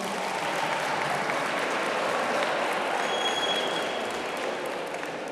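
Dense, steady applause from a large audience at a sports-awards gala marking 25 years of a sports institute, continuous and loud throughout, with no speech over it.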